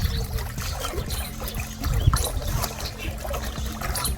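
Cold water gushes and trickles in a continuous close, loud pour, splashing steadily for a few seconds with no voices over it.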